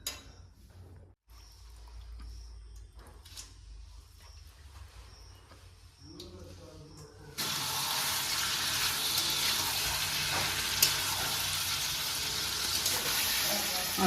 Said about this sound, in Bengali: এখন ম্যারিনেট করে রাখা মাংসটা দিয়ে দেবো